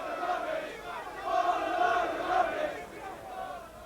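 A large cricket crowd jeers and shouts in displeasure at a 1995 Test match, a loud surging roar of voices that swells and fades in waves.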